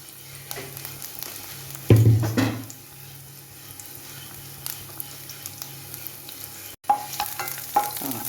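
Chopped cabbage and carrot stir-fry in a pan with onion, ginger and curry leaves, giving a continuous sizzle broken by a loud scrape and clatter of stirring, with no voices.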